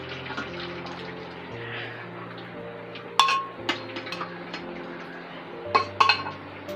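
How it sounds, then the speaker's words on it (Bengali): Boiled taro greens and chickpeas poured into a colander bowl, draining water splashing and trickling steadily with a few sharp metallic clinks of the bowl partway through, close and moderately loud. "এবার এটা জল ঝরিয়ে নেব। এই ঝাঁঝরি বাটিতে ঢেলে দিলাম।"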